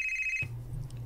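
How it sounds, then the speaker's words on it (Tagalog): Phone ringing with an incoming call, heard as a steady electronic ring tone that cuts off abruptly partway through and gives way to a low hum. "Oh, si Dave kini nanawag."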